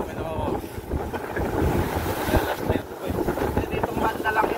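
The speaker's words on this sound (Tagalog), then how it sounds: "Lakas ng hangin." Strong wind buffets and roars across the microphone on a boat out at deep sea, a constant loud rushing with water and engine rumble beneath it.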